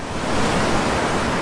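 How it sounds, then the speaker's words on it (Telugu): Ocean waves roll as a soft, steady wash of surf, a brief continuous rush used as a sound effect in a guided relaxation. "మీకు ఆ సౌండ్, అలలు"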